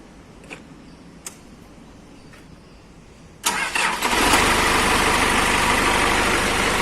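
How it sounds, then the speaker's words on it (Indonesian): A Toyota FD-25 forklift engine cranks and starts after a few faint ticks, then settles into a steady, loud idle close by with no talking. "Mari kita nyalakan mesinnya kembali."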